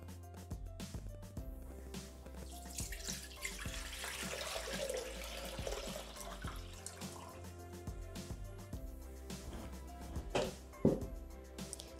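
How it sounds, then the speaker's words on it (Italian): Water being poured into a Thermomix TM6 bowl for polenta, a quiet trickling and splashing with small clinks and drips, close by but faint, with no voices. "Mettere nel boccale l'acqua."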